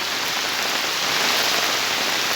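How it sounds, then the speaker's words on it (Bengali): Heavy rain in Sylhet, Bangladesh pours steadily onto a hard surface, a dense unbroken hiss with rushing water flowing over the road, loud and close throughout. "গতকাল রাত থেকে এই বৃষ্টির ভয়াবহতা প্রবল রূপ ধারণ করেছে"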